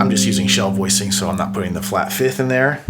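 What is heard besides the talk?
No everyday noises stand out.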